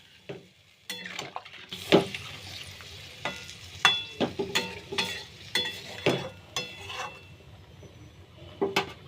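A cauliflower curry is stirred in a pan with hot water just added, the spoon scraping and clinking against the metal in uneven strokes over a low, steady simmer.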